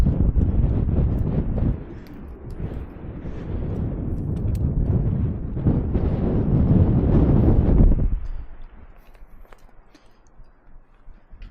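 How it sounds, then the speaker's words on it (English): Strong wind in Devil's Canyon roars and buffets the microphone in heavy gusts for several seconds, then drops away abruptly to a quieter breeze. "Starting to get a little windy here."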